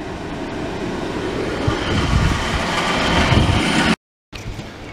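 A Dodge Caravan engine idles with its AC compressor engaged, giving a steady broadband mechanical drone that continues close and loud, briefly cutting out before resuming.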